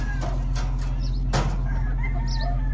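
Roundhead and Golden Monkey gamefowl hens on a breeding farm give soft clucks and a few sharp flaps or rustles, heard close over a steady low hum.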